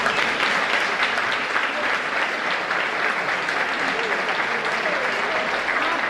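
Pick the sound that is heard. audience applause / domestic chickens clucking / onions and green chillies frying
audience applause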